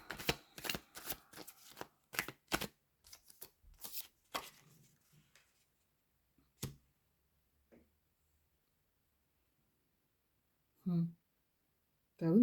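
Playing cards shuffled and dealt, a quick sequence of sharp snapping riffles up close that thins out into a few isolated taps, followed by silence and then brief voices.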